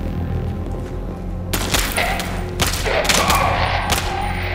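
Gunfire in the Half-Life-inspired indie game Kvark: a loud burst of several sharp shots, then more bangs spaced across a few seconds over a steady low game hum, with no speech.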